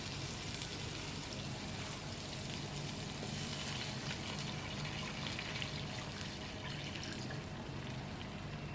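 Two cups of water go into hot curry masala for amla curry in a pot. The result is a loud, even hiss and crackling sizzle that holds steady throughout, with no talk.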